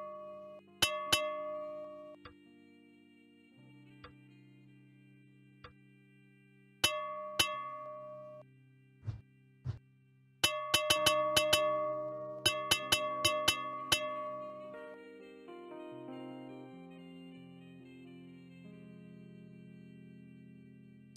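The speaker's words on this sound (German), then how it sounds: "Ein Löffel ins Glas." A spoon tapping a glass in the puzzle game Cube Escape, sounding as sharp, ringing clinks struck singly and in quick clusters, each leaving a clear sustained tone over a faint musical background.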